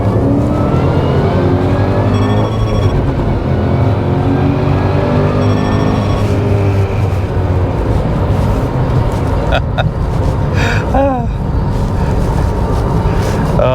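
A supercharged FPV GS with Magnaflow mufflers and tips laps Lakeside Raceway, its engine a loud, sustained drone rising and falling in pitch, heard close with a voice talking over it.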